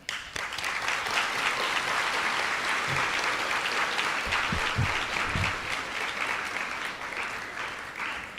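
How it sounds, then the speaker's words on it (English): Sustained audience applause at a middle school farewell ceremony, steady dense clapping filling the room throughout with no voices over it. "You deserve a round of applause for the incredible job that you have done."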